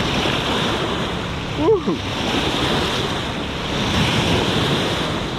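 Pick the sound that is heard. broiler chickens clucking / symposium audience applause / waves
waves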